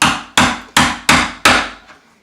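A hammer knocks on backsplash backer board set up behind a vanity, five sharp, evenly spaced raps up close, each ringing briefly before the next, with a faint sixth tap at the end.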